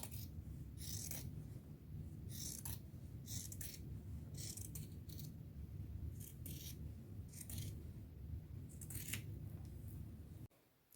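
Scissors cutting out a sketched fabric piece for a hat made from thrift store clothes, giving a series of soft, quiet snips spaced every second or so over a faint steady hum.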